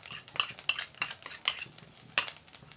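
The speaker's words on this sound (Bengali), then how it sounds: "এগুলো আমি খুব সুন্দরভাবে ভাতটার সঙ্গে মিক্স করে নেব।" Spoon scraping and clinking in a pan or bowl while rice is mixed with ghee and chopped coriander, several irregular close metallic taps and scrapes, no talk.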